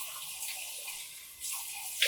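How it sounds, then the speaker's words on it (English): Lukewarm tap water runs into a bathroom sink as someone rinses their face during a morning routine, a steady close hiss of flowing water with a brief splash near the end. "I just rinse my face off. So, that's how I'm going to start out with tepid, lukewarm, chilly water"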